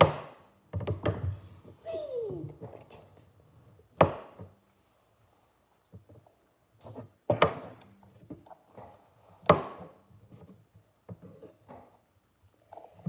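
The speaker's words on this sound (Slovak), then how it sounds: "takže krájame ovocie. Začneme banánom." A knife cuts through a banana on a cutting board, giving several distinct sharp chops spaced irregularly with quiet gaps between them, fairly close and clear.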